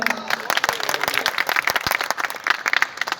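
An audience at a poetry event in Rewari bursts into loud, dense clapping that carries on steadily for several seconds, with a voice faintly heard over it.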